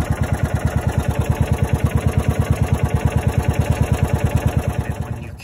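A John Deere Gator UTV engine idles close by with a steady, rapid, even chugging pulse that stays loud throughout and fades slightly at the end; no speech.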